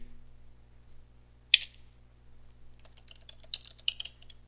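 Password being typed on a computer keyboard: a few sparse, faint key clicks in near silence, one sharper press followed by a short cluster of taps.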